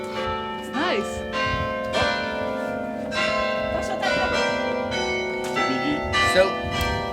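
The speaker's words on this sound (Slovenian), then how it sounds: "kot pravi Emmanuel Clermont, ni dobro iti mimo, ko začnejo zvoniti." Large church bells peal from the Dunkirk belfry, a tower whose heaviest bell weighs seven tons and smallest five kilograms, ringing close and loud in overlapping strokes with a sustained humming resonance throughout.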